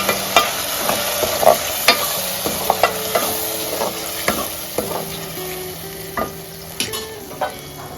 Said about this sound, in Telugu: ఒక 2 టమాటాలు వేసుకొని కలుపుకోవాలి